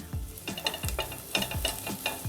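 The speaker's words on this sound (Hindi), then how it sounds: "अब इसमें हम लहसुन डालेंगे। इसे भी हम सौते करेंगे।" Garlic sautéed over a low flame in a pan for a vegetable clear soup, rhythmic stirring scrapes repeating about every third of a second over a soft sizzle, close and alone.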